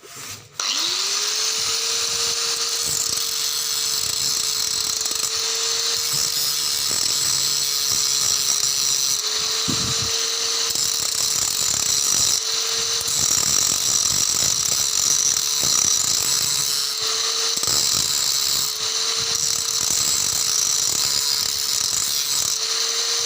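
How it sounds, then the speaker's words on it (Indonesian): Grinder cutting into the CVT crankcase of an older Honda Beat FI scooter, a loud, close, sustained whine held steady for over twenty seconds with slight dips in pitch and scraping grit throughout. "Lanjut aja kita proses menggerinda"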